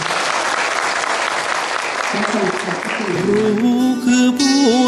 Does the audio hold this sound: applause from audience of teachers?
yes